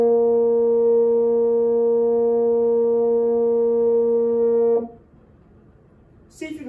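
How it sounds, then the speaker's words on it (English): A French horn holds a single sustained F, played with the first lever pressed, steady and full for about five seconds before cutting off, followed by a brief quiet pause and a faint noise. "I want you to press your first finger down on the first lever, and that will give you a note that sounds like this."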